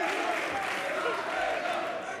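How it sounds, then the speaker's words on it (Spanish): Applause and crowd noise from a game show studio audience clapping for the losing contestants, a steady wash of many hands with some cheering voices mixed in. "Aplauso fuerte para ellos"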